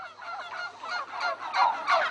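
A domestic turkey gobbles in a farmyard, a series of loud, close, wavering gobble bursts repeating across the clip with no talk.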